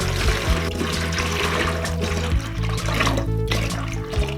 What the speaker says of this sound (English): So I need to add 2 litres of cold water into here first.